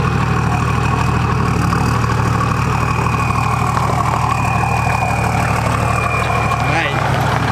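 A 1HDT Toyota Landcruiser engine idles steadily through a 3-inch straight-piped exhaust with a deep truck-like rumble and a constant turbo whistle, loud and close, with people talking over it.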